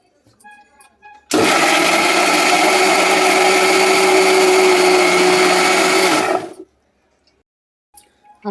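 A mixer grinder jar whirs loudly and steadily for about five seconds, blending roasted, softened ingredients into a paste for matar paneer, then cuts off abruptly.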